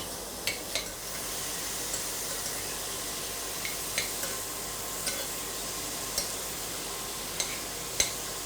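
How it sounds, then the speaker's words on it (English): Lutefisk for a Scandinavian Christmas dish fries in a pan with a soft, steady hiss, punctuated by faint occasional ticks and pops, quiet and even throughout with no talking. "we're just gonna fry this until it is pretty well fried"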